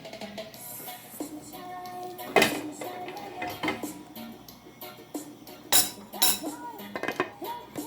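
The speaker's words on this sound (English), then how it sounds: "I'm going to put one more stir." Spicy vegetable colored rice stirred in a pot with a metal spoon: repeated clanks, scrapes and knocks against the pot rim, loud and close, in uneven bursts with quieter rustling between.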